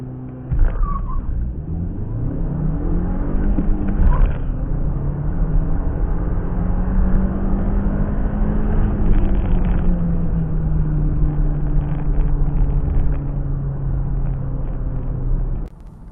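A 2017 SEAT Leon FR pulls hard from a standstill, its engine climbing steadily in pitch through the gears, with a short dip at each shift, loud and close for the whole run.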